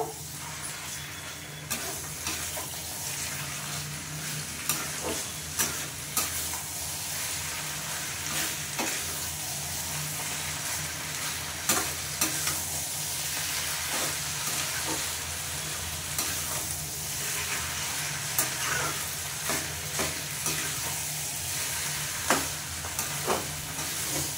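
Lote (Bombay duck) fish with spring onion greens frying in a pan while everything is stirred together, a loud, continuous sizzle and hiss broken by frequent close scrapes and taps of the spatula, with no talking.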